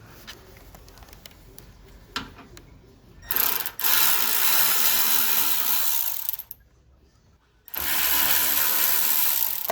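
A ratchet turns an E5 star socket on a fender fastener of a Chrysler Crossfire, with a few faint clicks and then two long, loud stretches of steady ratcheting separated by a short pause.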